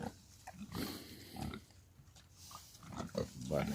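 Pigs about a year and two months old grunting on a farm, a series of low, close snorts and grunts that rise and fall irregularly, with some background noise between them.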